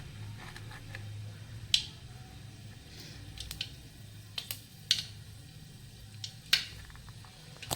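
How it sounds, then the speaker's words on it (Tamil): Mustard seeds spluttering in hot oil for a sweet potato stir-fry. Scattered sharp pops and crackles are spaced a second or so apart over a low, steady background hiss, close and with no voice. "கடுகு பொரியட்டும்"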